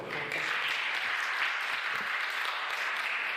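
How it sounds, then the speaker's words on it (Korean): A church congregation breaks into applause, a dense and steady clapping that swells quickly and holds at full strength, filling the room with no one speaking over it. "박수 쳐주세요"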